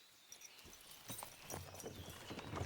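Horse hooves clip-clopping at a walk in the medieval game Kingdom Come: Deliverance II, a quiet, brief run of soft, irregular hoof knocks that builds slightly over a few seconds.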